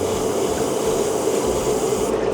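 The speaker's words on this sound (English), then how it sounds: "spray onto the cotton bud" An airbrush sprays onto a cotton bud, a continuous close hiss of air and paint mist held steady for a couple of seconds, cutting off near the end.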